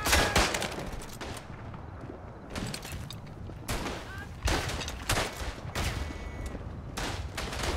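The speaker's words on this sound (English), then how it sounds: "And I got my machine gun deployed" Machine gun fire from a deployed MG in the World War I shooter Verdun, played as the German Schuetzen on the Champagne map: repeated bursts of close, loud gunfire separated by short pauses, with one player faintly talking.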